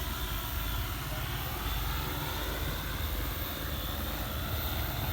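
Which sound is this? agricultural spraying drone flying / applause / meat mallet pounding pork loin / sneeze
agricultural spraying drone flying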